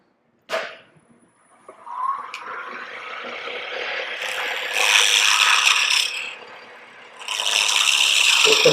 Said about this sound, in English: So I'm going to go to a spindle gouge.